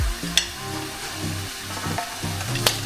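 Wild game Axis deer breakfast sausage browns in a pan with a constant sizzling hiss, two sharp metallic clicks of a utensil against the pan, and low rumbling scrapes as the meat is pushed around, no talking.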